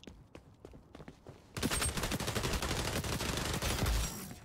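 Marksman rifle hipfire in xDefiant, with a few quieter shots and footsteps first, then a loud, dense stretch of rapid gunfire and explosions filling the rest.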